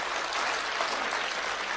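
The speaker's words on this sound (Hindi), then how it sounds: "अच्छी बात पर अच्छी ताली बजनी" An audience at a Hindi comic poetry recitation applauds in a dense, continuous burst of clapping throughout.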